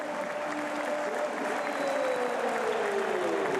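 A big holiday crowd roars at a Coventry City home match against Plymouth Argyle after a Coventry goal, with steady, dense cheering and applause filling the whole stretch, loud and continuous with no break.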